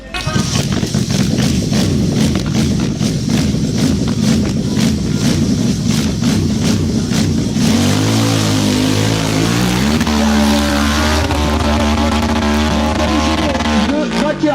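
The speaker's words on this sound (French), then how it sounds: "La machine qui est toujours en fonction. Le moteur qui tourne" A loud, continuous racing engine drone with rapid pulsing, shifting pitch in the second half as it revs and settles, with commentary faintly mixed in.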